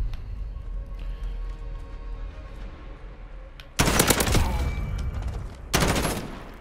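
M4A1 assault rifle in Call of Duty Modern Warfare firing two loud, close sustained automatic bursts after a quiet stretch of low game ambience.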